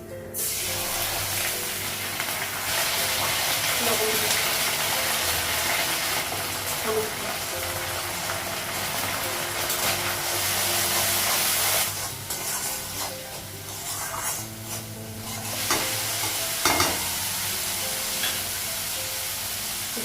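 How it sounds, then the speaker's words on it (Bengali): Green chili, dry chili and ginger paste frying in a pan, a steady broadband sizzle running throughout with brief louder crackles and stirring noises near the end. "কাঁচা লঙ্কা শুকনো লঙ্কা আদা বাটা দিলাম"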